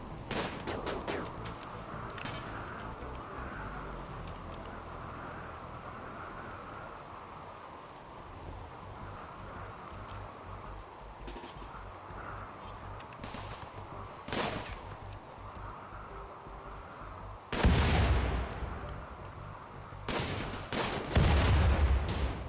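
Frag grenade explosions in the Rimworld colony game, striking walls: scattered crackling gunfire through a quiet stretch, then several heavy booming blasts near the end, loud and close.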